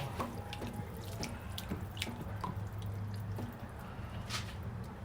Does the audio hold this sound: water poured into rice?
yes